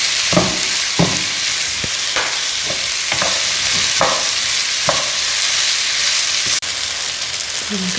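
Onions sautéing with salt in a pan for a Kerala-style egg biryani give off a steady sizzle, broken by regular scraping strokes of a spoon stirring, close and constant with no talk.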